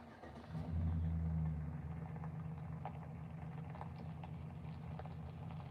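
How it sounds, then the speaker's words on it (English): Road traffic near a campsite on a busy weekend: a vehicle rumbles past loudly early on, then a steady low hum of distant cars continues. "There's a lot of traffic right now."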